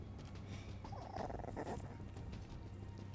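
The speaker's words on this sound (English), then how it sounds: "Sorry, that was my dog." A dog growls and whimpers faintly in a room, a low rumbling grumble with brief whiny notes over steady background hum.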